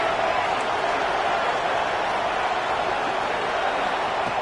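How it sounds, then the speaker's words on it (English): Steady, dense roar of a large football stadium crowd during a red zone defensive stand in a Miami vs Florida game, loud and continuous with no breaks. "This crowd is trying to inspire this defense to make a big red zone stop."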